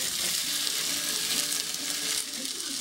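Onions fry in a pan, a loud, dense sizzle crackling continuously and close up throughout, with no talking.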